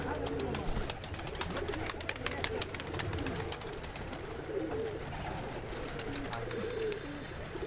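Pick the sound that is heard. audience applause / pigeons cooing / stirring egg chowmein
pigeons cooing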